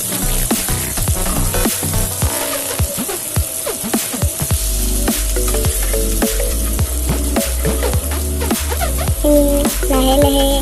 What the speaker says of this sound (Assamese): পিঁয়াজখিনি আমি ভালকৈ এটা কালাৰ চেঞ্জ কৰালৈকে আমি ভাজি থাকিম।